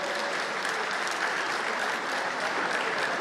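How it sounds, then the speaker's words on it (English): Audience applause for the gubernatorial candidates at an Imo State town hall meeting: a dense, steady wash of many hands clapping at once, sustained and even throughout, with no voices standing out. "We can now give a wonderful round of applause to all the candidates."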